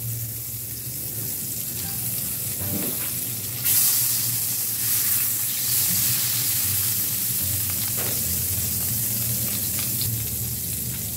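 Oil sizzles and fries steadily in a pan while an aloo paratha (potato-stuffed flatbread) cooks, a continuous close crackling hiss that swells briefly partway through, with no talking.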